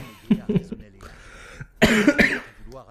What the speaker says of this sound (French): Excusez-moi, je tousse.